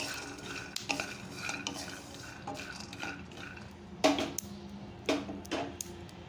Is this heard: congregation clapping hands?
no